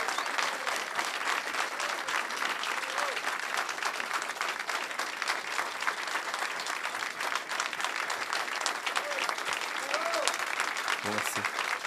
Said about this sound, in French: j'aimerais ça, si vous pouvez les applaudir de tout le travail qu'ils ont fait.